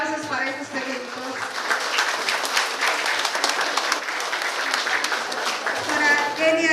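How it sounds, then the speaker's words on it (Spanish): Warm applause from families at a kindergarten closing ceremony in Ameyaltepec, Guerrero, steady clapping for several seconds with children's and adult voices chattering underneath. "Fuertes aplausos para estos pequeñitos."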